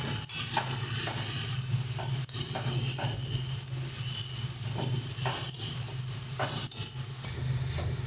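Eggplant and spices, with ginger paste and salt, are stirred and mixed in a cooking pan, giving a steady scraping and sizzling hiss with soft repeated strokes throughout.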